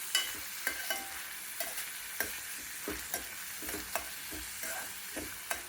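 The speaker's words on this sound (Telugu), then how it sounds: "ఉల్లిపాయలు కొంచెం వేగాలి అన్నమాట, పచ్చి వాసన పోవాలి కదా" Onions frying in a pan for a bitter gourd masala curry, with a soft steady sizzle broken by a string of light stirring scrapes and taps at roughly half-second intervals. No voices.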